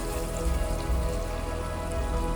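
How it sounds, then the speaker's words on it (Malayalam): Water rushes at Kappimalai waterfalls at the height of the monsoon, a dense, continuous roar like heavy rain that stays steady and close the whole time. "മുന്നോട്ടുള്ള വഴികളിലെല്ലാം വെള്ളച്ചാട്ടത്തിൻ്റെ സമൃദ്ധിയാണ്."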